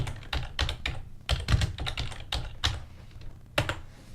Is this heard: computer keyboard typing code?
yes